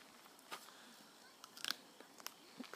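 Freshly picked chestnut is bitten open outdoors: a few faint, crisp crunches and snaps, close but quiet, scattered over a soft background hiss.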